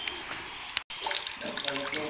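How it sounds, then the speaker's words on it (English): Water flows from a cave stalactite in Samar, a continuous splashing trickle close by with a bright hiss, briefly cut by a short dropout midway. "So that is the source of the water coming from the cave."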